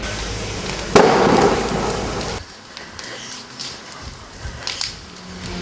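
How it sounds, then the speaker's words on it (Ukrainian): A sudden loud explosion close by at night in a city street where cars were burned, a broad burst of noise rumbling for over a second before cutting off, followed by quieter outdoor background sounds. "аж тут неподалік пролунав вибух"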